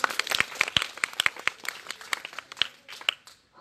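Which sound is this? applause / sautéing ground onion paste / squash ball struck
applause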